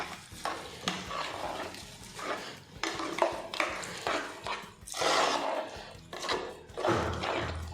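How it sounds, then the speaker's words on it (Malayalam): Erissery, a Kerala Onam dish of vegetables and coconut with chilli and curry leaves, stirred together in a cooking pot, producing repeated scraping, clinking and sizzling bursts in an uneven rhythm, close and moderately loud. "ഇത് നമുക്കിതെല്ലാം കൂടെ കൂട്ടി യോജിപ്പിക്കാം"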